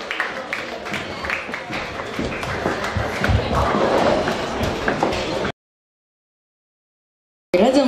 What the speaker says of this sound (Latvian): Aplausi par šo brīnišķīgo izpildījumu.